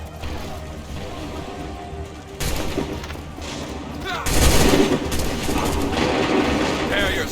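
Musket volleys in Assassin's Creed 3 boom out in bursts of layered shots, with a heavier crackling volley midway, amid battlefield din and shouted commands.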